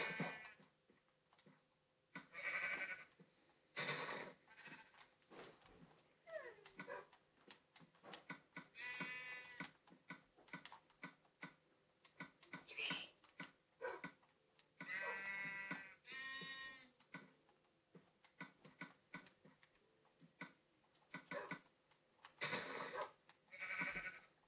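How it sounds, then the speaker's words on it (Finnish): Sheep bleating in the Ninecraft video game, several short wavering bleats recurring through the clip amid clicky game sounds, with no talking. "Lammas."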